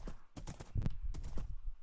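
Horses clip-clop in a video game, a quick run of hoof taps close by with a few louder thuds midway, and no talk over them.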